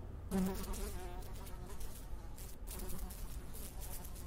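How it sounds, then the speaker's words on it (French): Flies buzz continuously around a person, a close, steady insect drone that swells and fades slightly, heard alone without speech. "Et des mouches lui tournent autour."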